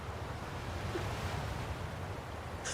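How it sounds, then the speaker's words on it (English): Water laps and washes gently near a boat in Skyrim, a low, steady rush of small waves with a faint airy hiss, heard alone and quietly throughout. "How does the water sound?"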